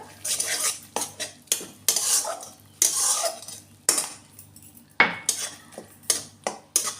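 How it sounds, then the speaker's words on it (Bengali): Metal spoon scraping and knocking against a pan while tomato paste is stirred into spices for a rohu fish curry, a run of close, irregular clattering strokes with brief pauses between them. "টমেটো বাটা দিয়ে ভালো করে কষিয়ে নেব টমেটোর কাঁচা গন্ধ যাওয়া অবধি"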